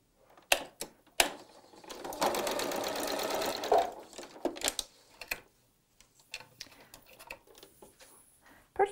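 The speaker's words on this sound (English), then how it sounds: "bring it to my sewing machine" A sewing machine stitching quilt fabric runs in a steady buzzing burst for about two seconds, surrounded by scattered clicks and handling noises of fabric being moved.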